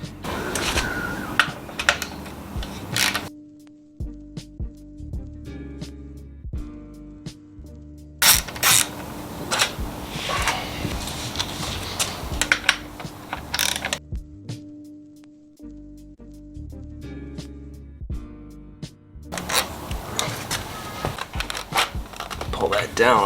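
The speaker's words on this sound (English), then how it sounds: "We're going to take the radiator bolts loose. It's a 5mm Allen." Close, busy clicking of a ratchet with a 5mm Allen bit loosening radiator bolts during a spark plug change, in bursts separated by short pauses, with a person talking in between.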